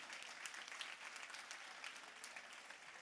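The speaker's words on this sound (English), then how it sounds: "can we give a giant round of applause to New World Title for setting this up?" Dense applause from a crowd at a keynote event, fairly distant and steady, continuing evenly for a few seconds.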